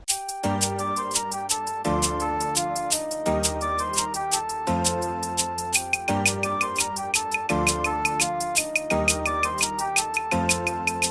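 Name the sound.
clap added to afrobeat beat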